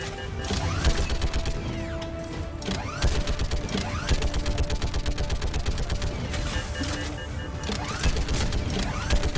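Rapid turret gunfire from the Mass Effect 3 video game, dense repeated shots with explosive crashes and mechanical clatter running steadily throughout at high loudness, layered with game music and effects.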